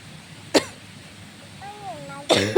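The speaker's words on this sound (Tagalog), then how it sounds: "Inuubo na ako ng gusto." Two sharp coughs from a person nearby, spaced apart in a quiet room, with a faint voice-like murmur between them.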